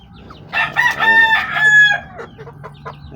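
A Kelso gamefowl rooster in a simple backyard coop crows loudly and close by in one long, strained call, then gives a few short clucks.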